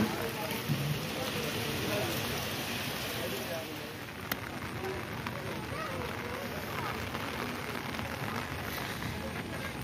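Rain pours steadily over the Muktarpur cattle market during a storm, a dense continuous hiss with distant murmurs of people talking underneath.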